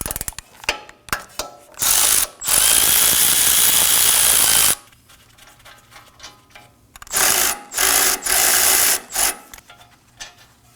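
A ratchet loosens the wheel hub bolts on a 2017-2024 Nissan Armada during a front wheel bearing and hub replacement. Loud bursts of rapid clicking come up close and stop and start between quieter pauses.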